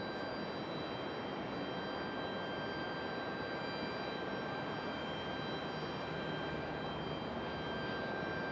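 A Frontier Airlines jet departs Raleigh-Durham airport, its engine noise a faint, distant, even roar with a thin steady whine on top, alone and unbroken.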